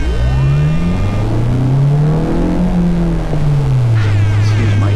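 A 2007 Honda Civic Si manual coupe with a 2.0 DOHC i-VTEC engine accelerates hard: a loud, steady engine drone climbs in pitch, eases slightly and climbs again, heard from inside the car, with no talk.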